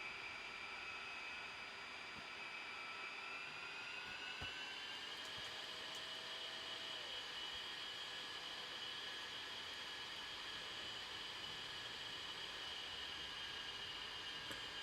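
A jet aircraft taxis in the DCS flight simulator game, a steady high engine whine with a faint low rumble that holds constant, tones shifting slightly partway through, with no talk.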